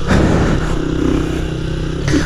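A Honda Start 160 motorcycle revs loudly up close, its engine note rising and shifting as it moves through first and second gear without the clutch, a continuous rough roar.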